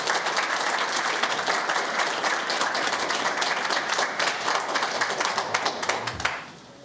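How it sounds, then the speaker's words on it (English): An audience at a White Bear Lake city council meeting gives a sustained round of dense, even hand clapping. It continues steadily for about six seconds, then drops off quickly into quiet room tone. "So if you could please hold your applause"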